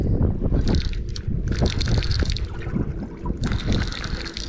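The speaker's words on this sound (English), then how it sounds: "it's still windy" Gusty wind over Santee Cooper lake in fall buffets the microphone in rumbling bursts, with faint water lapping and hissing noise in the background.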